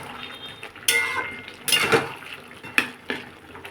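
Spoon stirring watermelon vegetable curry in a cooking pot, a few sharp metallic clinks and scrapes against the pot amid quiet background, irregular and close.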